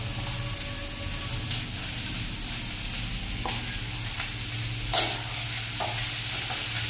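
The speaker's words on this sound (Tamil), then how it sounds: "அப்படியே ஃப்ரை பண்ணுவோம். மீடியம் ஃப்ளேம் வச்சுக்கோங்க." Chopped onions and curry leaves frying in oil over a medium flame, a loud continuous sizzle with occasional stirring scrapes and one sharper clatter of a spoon on the pan, close and without speech.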